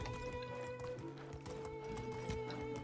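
Rhythmic hoof clip-clops of a horse galloping in the medieval game Medieval Dynasty, steady quick beats alongside tonal game music, with no talking.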